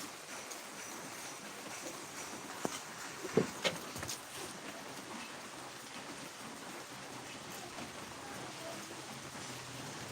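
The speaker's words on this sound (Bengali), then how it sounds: "বৃষ্টির জন্যই মাটি বহা হচ্ছে বৃষ্টির দিন" Steady rain falls, a soft continuous hiss with a few louder drips and taps, fairly quiet and with no voices.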